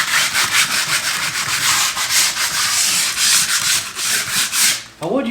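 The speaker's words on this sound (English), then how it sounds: "Use any kind of sandpaper." A drywall patch on a damaged wall being hand-sanded with a plain sheet of sandpaper: loud, close, continuous back-and-forth scraping that stops abruptly near the end.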